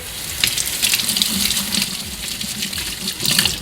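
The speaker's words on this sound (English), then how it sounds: "when you guys take it out, you guys want to hand wash it" Hand washing a heated eye mask in water at a sink: steady splashing and sloshing with bursts of brighter spatter, continuous and close, with no talk.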